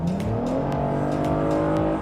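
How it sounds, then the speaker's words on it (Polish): A Toyota Highlander SUV's six-cylinder engine revs with a deep, throaty rumble, pitch rising and falling smoothly as it accelerates, loud and close. "Już słyszę, słyszę taki fajny warkot tego silnika"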